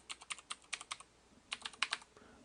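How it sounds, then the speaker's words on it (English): Keys tap on a computer keyboard in two short quick bursts separated by a brief pause, crisp, close and fairly quiet with no voice. "here you type in your class ID"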